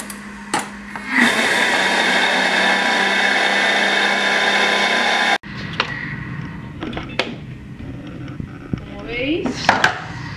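Thermomix blending melted butter with biscuits for a cheesecake base at speed 5: a steady, loud whirring grind for several seconds that stops abruptly, followed by scattered clinks and scraping of utensils and bowl.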